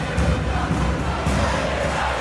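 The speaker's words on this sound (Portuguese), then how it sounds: "A torcida pede Pedrinho." A video game football stadium crowd chants for Pedrinho, a dense, continuous roar of many voices with rhythmic swells, loud and close throughout, with no commentary over it.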